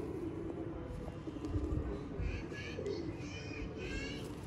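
Golden pigeons coo softly in low, repeated calls at close range, with faint chirps and a steady hum of background noise around them.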